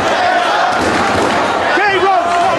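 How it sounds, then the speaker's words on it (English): A packed Manhattan arena crowd roars continuously during a Ring of Honor world title wrestling match, loud and dense, with a commentator talking over it. "Listen to the crowd here in Manhattan."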